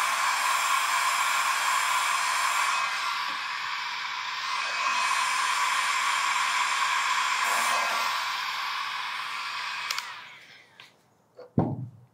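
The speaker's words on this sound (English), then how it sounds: "Heating it up just a little bit helps it warm up and be a little more sticky and pliable to fit in exactly where it needs to go." Hot air gun blowing steadily to warm the adhesive of a GoPro helmet mount, a loud even whooshing hiss with slight wavering, then switched off near the end, leaving a few soft handling knocks.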